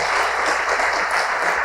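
A church congregation applauds at a televised evangelical service, a dense sustained clapping from many hands filling the room without pause.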